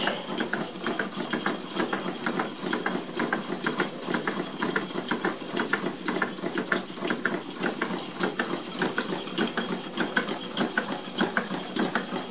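Four Stuart steam engines running on a Stuart 504 steam plant, a fast, steady mechanical clatter with regular rhythmic knocking and a hissing background, close and continuous with no talk.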